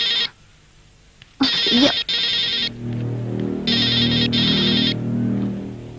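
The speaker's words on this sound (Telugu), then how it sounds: "ఫోన్ రింగ్ అవుతుంది" A telephone rings in a Telugu film scene, sounding in loud repeated electronic bursts with short gaps between them; a voice gives a brief exclamation near the start.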